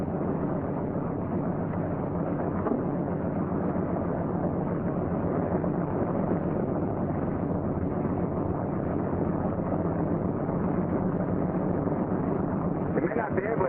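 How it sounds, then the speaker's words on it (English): A C-47 aircraft engine runs up with a steady, loud droning roar, unbroken for over ten seconds, muffled and low-passed as on an old training film soundtrack, with a narrator speaking over it. "Now you start the right engine."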